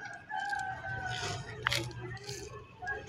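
A rooster crows nearby over a low, steady background hum.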